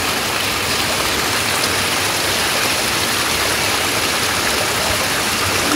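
Water pours steadily at the Gaumukhi spring waterfall near Takshaswar Mahadev in Bhanpura, Madhya Pradesh, a loud, continuous close rushing and splashing that fills the whole stretch without any voices.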